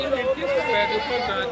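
Goats bleat at the Gudur livestock market, wavering calls heard close amid crowd chatter and voices of people talking.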